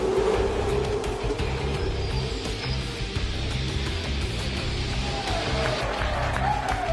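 Race cars launching off the grid at the start of the 2013 Super Cheap Auto Bathurst 1000 in the Forza Motorsport 5 racing game: a dense, steady engine roar with crowd-like noise, loud and continuous throughout.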